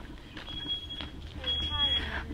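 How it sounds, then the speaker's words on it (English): A smoke detector in a camping trailer at a lakeside provincial park sounds in short, faint high beeps over low background rumble and murmur. "Our smoke detector on our trailer works really, really good."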